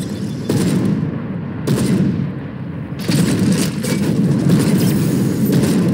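Rapid gunfire and bursts of weapon fire from the video game StarCraft II in co-op mode, loud and sustained in dense volleys with brief lulls between them.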